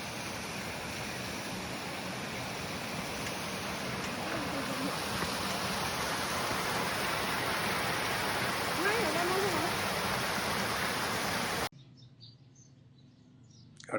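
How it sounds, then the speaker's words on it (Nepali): A small waterfall on a mountain trek trail rushes in a steady, dense roar, then cuts abruptly to a quieter outdoor ambience near the end. "ठ्याक्क झरना मात्रै पार भएको थियो,"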